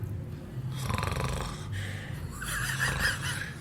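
A voice imitates the loud, drawn-out snoring of cinema goers, with repeated rasping breaths, snorts and wheezes close to the mic.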